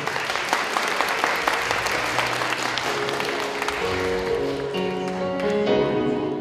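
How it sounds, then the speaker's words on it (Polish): Audience clapping continuously at a disability day gathering in Krynica-Zdrój, a steady dense applause lasting throughout, with a few faint tones surfacing toward the end. "Wielkie brawo."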